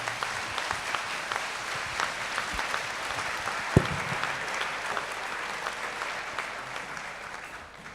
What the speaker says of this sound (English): So, folks, can we give our guests a round of applause?